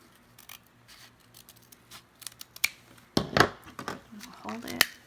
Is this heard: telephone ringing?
no